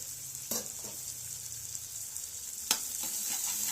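A brinjal and salted fish curry simmering in a pan, giving a faint, even sizzle with two sharp clicks or taps standing out against the low steady hiss.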